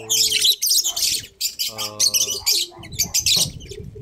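Three blue parblue pet birds chirp and tweet in a series of bright, close calls, with short harmonic squawk-like notes between bursts and a faint voice in the background.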